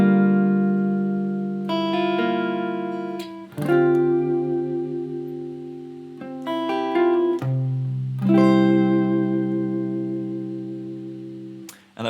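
Guitar chords with melody notes added on the fourth string, played clearly and alone with ringing sustained strums and a few picked notes, in separate phrases with short pauses between them.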